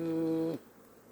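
A honeybee buzzes close by at a hive in Adana in April, a steady droning hum for about half a second before it cuts off into quiet.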